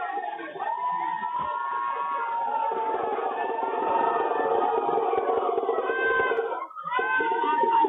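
A large crowd chants and cheers for Prime Minister Modi as his cavalcade arrives in Ahmedabad, a dense, continuous roar of many voices with a steady sustained tone running through it.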